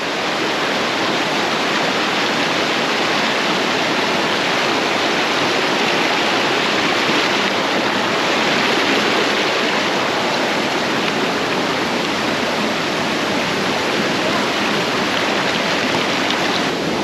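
Ambon-Ambon Falls, a 100-foot waterfall in Bagac, roars in a loud, continuous broadband rush of falling water with no pauses, close and steady throughout.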